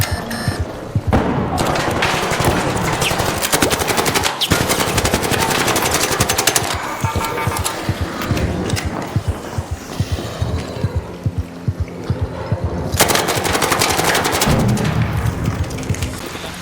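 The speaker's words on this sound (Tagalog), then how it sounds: "Pinag-rat-rat tapos ang bilis na reload, parang nagsoswap ka lang ng ano ng MP5." Rapid submachine gun fire in the shooter game Arc Raiders, MP5-style, in long dense bursts with thudding impacts and brief pauses between strings of shots, loud and continuous throughout.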